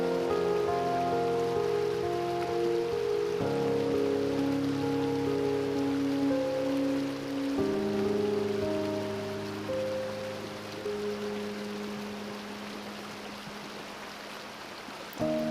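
Water flows with a continuous soft rushing wash beneath sustained, slowly shifting musical chords that dominate the foreground.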